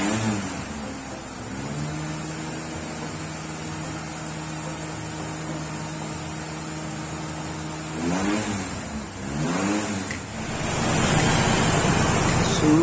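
A Ford Laser car engine held at raised revs while AC refrigerant is charged: a steady idle hum rises into two short rev swells, then settles into a louder sustained drone, close by with no talk.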